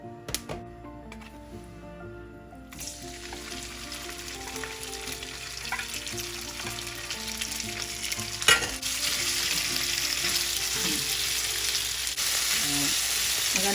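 Chicken breast stir-frying with ginger in hot oil in a wok, giving a loud steady sizzle that swells partway through, with occasional scraping clicks from stirring.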